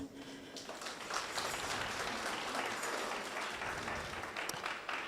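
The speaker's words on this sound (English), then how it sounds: "A round of applause, please." A conference audience claps steadily for an arriving guest of honor, a broad sustained round of applause lasting several seconds without speech.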